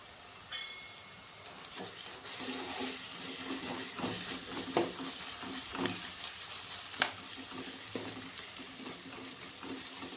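Garlic paste sizzles among frying onions in a pan for village-style chicken kosha, giving a continuous crackling fry at moderate volume with repeated scraping stirs and a couple of sharper knocks, and no speech.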